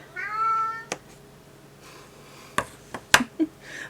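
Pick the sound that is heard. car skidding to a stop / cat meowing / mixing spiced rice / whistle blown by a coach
cat meowing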